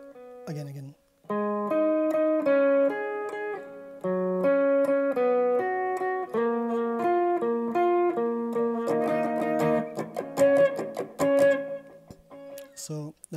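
Solo electric guitar plays the Nadie Como Tu intro octave lead, a flowing melodic run of plucked doubled notes that grows busier and brighter toward the end, heard up close with no other instruments.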